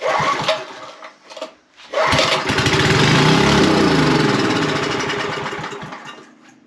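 A Coleman Powermate 2250 generator, over twenty years old, sputters through a few tries and then catches into a loud, steady engine drone that runs on alone.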